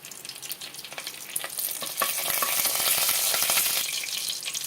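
Cinnamon, cardamom and cloves fry in hot ghee with a bright, steady sizzle that swells and stays loud and close, with occasional stirring scrapes.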